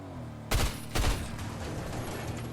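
Two loud, close gunshots in Fortnite Chapter 5 Season 1 zero build mode, fired about half a second apart, each followed by a short ringing tail over a low background rumble, with no talking.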